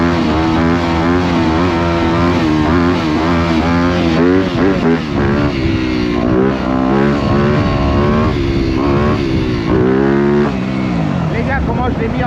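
Motorcycle engine at high revs, loud and close, held steady through a wheelie along a short straight on a rough, pothole-strewn track, with harmonic tones rising and falling as the throttle shifts and someone talking over it.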